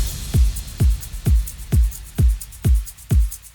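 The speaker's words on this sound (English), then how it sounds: "For a smooth transition, let's use some impacts and downlifters." A progressive house breakdown built in FL Studio: a punchy kick thumps at an even pace about every half second, layered with crisp claps, shaker loops, impacts and downlifters in a dense electronic mix.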